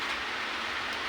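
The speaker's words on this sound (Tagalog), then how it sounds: "Ang lakas ng ulan sa labas" Heavy rain falls outside in a dense, unbroken roar with no gaps or voices, loud and steady.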